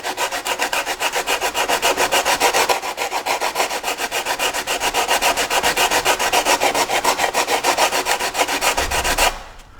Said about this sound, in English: The sanded area will get larger as we do this, as it does with every step.